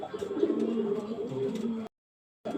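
A silver-colored competition bird at a bird contest calls with repeated low cooing notes over background chatter and noise, then the sound cuts out briefly before resuming.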